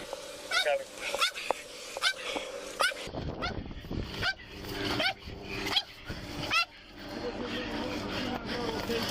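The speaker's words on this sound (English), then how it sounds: "There ain't no way that dog big as hell barking like that." A large dog barks repeatedly at a police traffic stop involving a suspect vehicle, sharp loud woofs in irregular bursts with a few whimpers, under radio chatter and officers talking.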